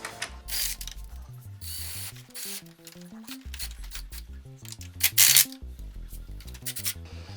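Bracket bolts for a Baja Designs LP6 light mount are tightened with a ratchet on an Indian Challenger motorcycle, with several bursts of bright clicking over a steady, tonal hum in the background, one louder burst near the end.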